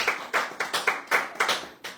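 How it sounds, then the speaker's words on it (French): A small studio audience on a French radio show claps in sparse, uneven bursts, about eight distinct close claps over two seconds with no one talking. "Non, Paulette, il faut l'applaudir, sinon elle passe une mauvaise semaine."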